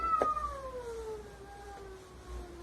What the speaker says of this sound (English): I gotta finish this up soon because my cat is going nuts.